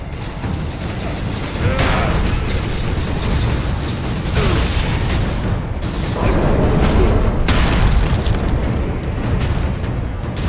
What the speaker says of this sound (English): Oh, you explode into a daemon.